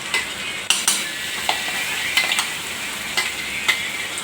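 Onion and tomato sizzle steadily in a pan, a close, even crackle with a few sharp clinks of a spoon stirring against the metal.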